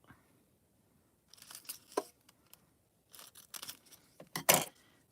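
Scissors snip off a small corner of foil cardstock while a fairy shaker card is assembled: a few short crisp cuts and crinkling paper sounds in bursts, close and fairly quiet, with no talking.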